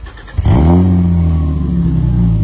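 A 1989 BMW 525i E34 with its M20B25 straight-six revs up sharply, then settles into a steady, loud, close idle with a deep, even engine drone.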